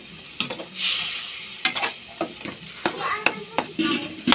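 Binagoongang baboy sizzles in a pan while being stirred, with spatula scrapes and clacks over a steady fry hiss, close up, and a woman and someone briefly speak nearby.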